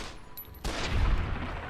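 Gunfire in the video game Fallout New Vegas: a quieter opening, then a sudden loud burst of heavy, booming shots with a deep low rumble that stays dense to the end.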